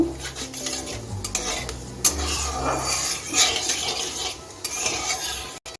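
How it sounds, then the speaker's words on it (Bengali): Cumin seeds crackle in hot oil that was already used for frying fish. A utensil stirs and scrapes against the pan close by throughout, with a low hum running underneath. "জিরাটা একটু ভেজে নেব"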